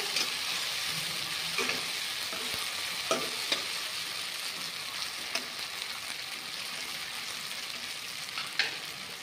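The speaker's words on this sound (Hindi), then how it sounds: "अच्छे से चला लेंगे दो मिनट तक फ्रेंड्स हम फ्राई करेंगे सभी चीज़ों को" Okra and spices fry in a pan for a bhindi boondi curry, giving a steady bright sizzle throughout, broken by occasional light scrapes and clicks of stirring.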